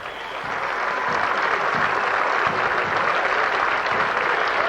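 A football crowd in Drogheda applauds a player at a 1997 FAI Youth Cup Final, the clapping swelling in the first moment and then holding as a dense, steady ovation.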